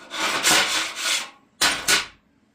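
A scraper drags across a steel welding table to remove weld spatter. There are two close, loud scraping strokes, the first long and the second shorter with a double push, and no one speaks.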